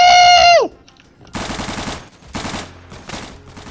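Gunfire in the video game Day of Infamy breaks out after a sharp synthetic tone cuts off: several bursts of rapid, crackling shots with brief gaps between them, loud and close.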